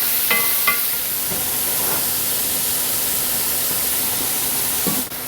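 Chopped celery and mushrooms, with carrots, cook in a pan as a low-carb meal, giving a steady, soft frying hiss throughout with a few faint clinks of a utensil against the pan.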